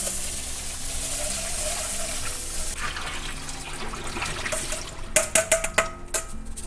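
Rice is washed in water, a continuous sloshing and running-water rush that turns into a series of splashy pours and drips toward the end, with no talking.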